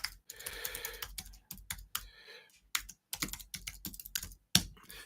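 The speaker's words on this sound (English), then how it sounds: "Let me just type that in there." Someone types an email address on a computer keyboard, a quick, uneven run of close key clicks in bursts separated by short pauses, with no talk.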